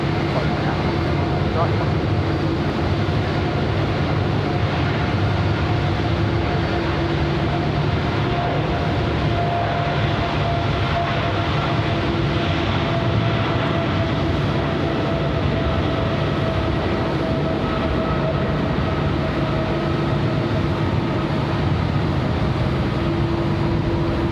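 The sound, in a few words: airliner taxiing at Sydney Airport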